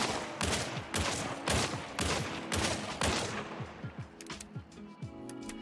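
The Officer Carbine fires in Hunt: Showdown, a fast series of sharp, evenly spaced rifle shots with ringing tails, coming quicker and lighter toward the end, with no talk over it.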